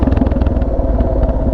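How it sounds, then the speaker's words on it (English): A Suzuki DRZ dirt bike revs hard on a trail behind the rider, a loud, pulsing engine roar with rapid throttle bursts over the rider's own motorcycle. "I can hear old mate on the DRZ behind me ripping it up."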